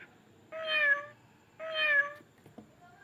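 Two evenly spaced meows from a Chicco talking toy farm house, a recorded cat call played back clearly with nothing else around it.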